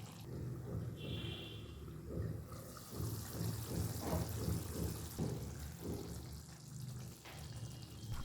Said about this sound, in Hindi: अब हम इसमें डालेंगे थोड़ा सा पानी